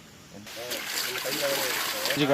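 Dried goatfish being rubbed and rinsed in water, with soft splashing and sloshing under continuous nearby talk.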